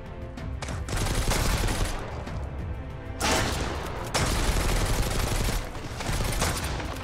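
Gunfire in the survival video game Mist Survival comes as loud bursts of rapid shots and booms, some clustered, others sustained, with short gaps between volleys.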